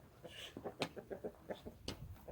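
Chickens cluck in quick irregular bursts close by, with a few sharper squawks rising over the steady low murmur of the flock.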